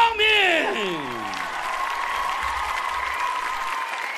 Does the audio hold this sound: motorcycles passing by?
no